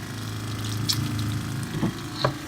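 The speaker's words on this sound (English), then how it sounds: "I have this lid here so that I can watch so that I don't overfill the bucket as the water's coming in." A water pump pushes water through a filter into a bucket, giving a quiet, steady pump hum with splashing and a few small drips.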